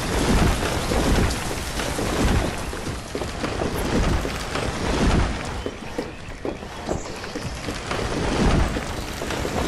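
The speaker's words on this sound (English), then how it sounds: "Oh, it's raining again." Heavy rain in the video game Banished pours steadily and densely, a loud continuous wash with no voices over it.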